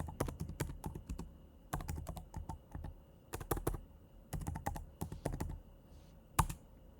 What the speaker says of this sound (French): il suffit de taper la commande Prisma generate